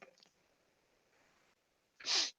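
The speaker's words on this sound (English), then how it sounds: "Got to keep another sneeze at bay there." A single sharp sneeze bursts out close by after a stretch of faint breathy quiet.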